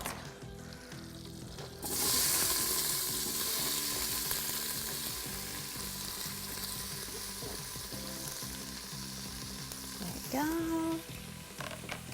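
Chopped onion and about three stalks of celery drop into oil and butter in an Instant Pot and burst into a loud, steady sizzle that holds for about ten seconds, with a brief utensil scrape near the end.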